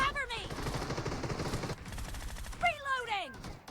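An automatic machine gun fires in PUBG Mobile, a dense rattling burst of rapid shots up front, then a pause and further sharp shots with ringing whine-like tails.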